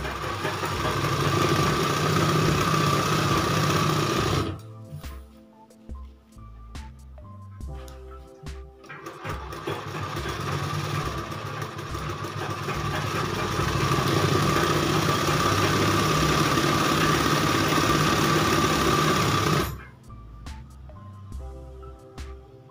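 A sewing machine runs in long continuous bursts while stitching a child's skirt, loud and close with a steady mechanical hum, stopping briefly around five and twenty seconds before starting again.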